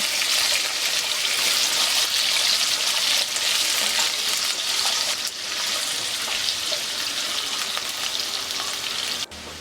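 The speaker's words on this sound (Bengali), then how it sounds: "আলুটা আমি ভালো করে ভেজে নেব।" Cut potatoes frying in a pan, a loud continuous hissing sizzle that dips briefly and resumes, ending with a sharp knock, no talking.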